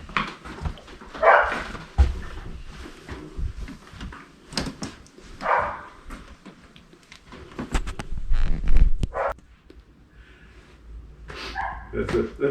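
A pet dog at a house near the Wells Ferry crossing on the Sacramento River near Anderson barks and yips in several short bursts, mixed with door sounds and people talking nearby.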